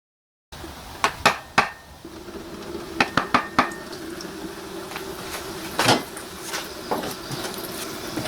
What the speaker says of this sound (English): just tapped on the side to open this up a little bit so I can get some of the oil to drain